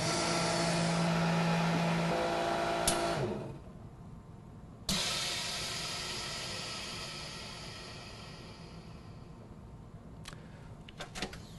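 An MVS45XP chamber vacuum sealer runs a full vacuum cycle: a loud steady pump drone cuts off after a few seconds, followed by a sharp click and a quieter hiss that slowly fades, with small clicks near the end.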